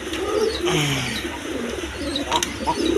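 Bombay pigeons coo with low, soft rolling calls close by, over a steady background hum with a few faint chirps.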